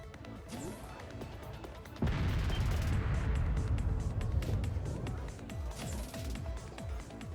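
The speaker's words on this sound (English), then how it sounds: "The railway cannons!" Distant but massive railway cannon artillery fire in Trails of Cold Steel 3 erupts as a sudden deep, rolling rumble that swells and lingers for several seconds, with faint talk and background game sound.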